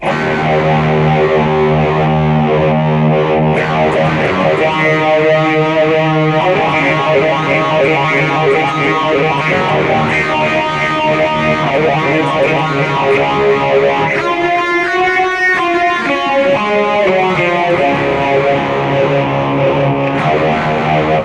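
Electric guitar through a BOSS eBAND JS-10 set for a 1960s tone with distortion and hall reverb, playing loud sustained chords and melodic bends continuously, alone without talk.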